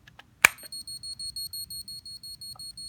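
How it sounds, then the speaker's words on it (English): Warning signal from a Bell & Howell T50 XL Super 8 movie camera with no film loaded: a rapid, steady train of high electronic beeps pulsing about five times a second, close and clear, after a sharp click. "I get a warning signal. There's no film in the camera."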